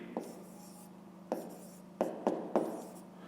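Pen strokes writing out a maths fraction exercise on paper, heard as five sharp, close scratches, the first one isolated and the last three in quicker succession, with no talk.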